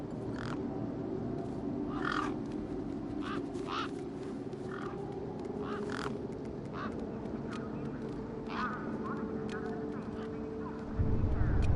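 Birds cawing and squawking in the Beneath a Steel Sky video game, repeated short harsh calls scattered over a steady background hum, fairly near and moderately loud.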